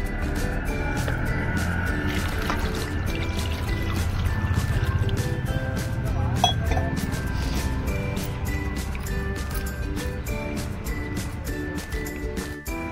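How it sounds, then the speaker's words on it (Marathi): Koyari bean pods washed in water in a home kitchen, with steady sloshing, trickling and dripping sounds throughout, close and moderately quiet. "या शेंगा आपण स्वच्छ धुवून घेऊया।"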